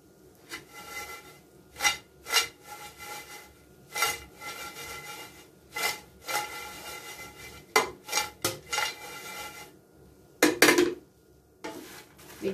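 Dried anchovies (dilis) are stirred in a pan, with bursts of scraping and rattling from a utensil against the pan between quieter gaps, irregular and close.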